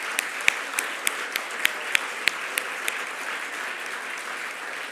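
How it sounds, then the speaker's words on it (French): Audience applause at a formal gala honouring guests of honour, a steady crowd clatter with sharper individual claps standing out, sustained throughout at moderate distance. "applaudissons chaleureusement nos invités d'honneur."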